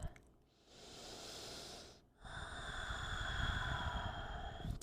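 Deep, slow breaths during a Yin yoga upper-body stretch: one soft hissing exhale, a short pause, then a longer, fuller breath, close and quiet with no talk.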